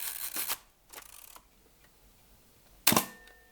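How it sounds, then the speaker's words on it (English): Mamiya RZ67 medium format film camera firing its shutter, a few crisp mechanical clacks spaced apart at close range, with the last one sharpest, alone in a quiet room. "they definitely don't have a shutter sound as sexy as this"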